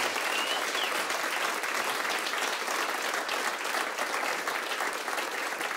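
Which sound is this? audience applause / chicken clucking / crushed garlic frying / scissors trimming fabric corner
audience applause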